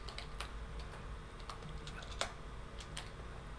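Rapid typing on a computer keyboard, light clicking keystrokes in an uneven rhythm, fairly quiet and close with no talking.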